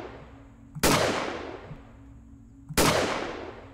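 Two loud gunshots spaced about two seconds apart in the horror video game The Glass Staircase, each a sharp crack with a long fading echo, over a low ambient hum.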